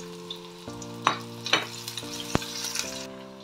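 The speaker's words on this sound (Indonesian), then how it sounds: "Tumis bawang putih, bawang merah ya teman-teman, ditumis dulu sampai harum" Garlic and shallots sautéing in oil, a close steady sizzle with several sharp spatula scrapes and clinks against the pan over a low humming tone, no voices.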